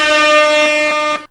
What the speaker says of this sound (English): in first place with 5 points, of course, is air horns. Hit that button, Emily.